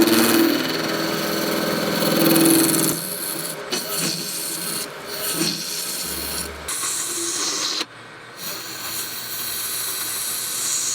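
A small resin piece being shaped into an egg form by sanding and rasping, with steady rubbing and grinding strokes, some louder machine-like passages and brief pauses, no talking.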